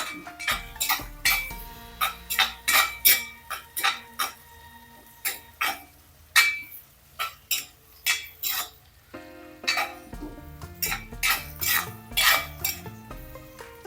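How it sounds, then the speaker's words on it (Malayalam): Crushed garlic sautéing in a pan while a metal spoon stirs and clinks against it repeatedly, sharp rhythmic scrapes over a faint sizzle. "ഈ വെളുത്തുള്ളി ഒന്ന് വഴന്ന് വന്നിട്ട്"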